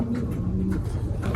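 A racing pigeon chick coos softly in low, rounded notes at close range over a faint steady background hum.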